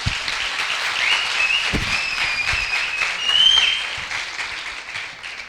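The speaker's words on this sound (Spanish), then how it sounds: "Un aplauso, Abel." An audience applauds after a talk, a dense, steady wash of clapping that swells slightly and then fades.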